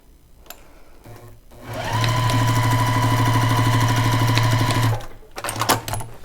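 A sewing machine stitching pieces of quilt fabric, revving up into a steady mechanical whir for about three seconds before stopping, with handling clicks before and after, close and loud.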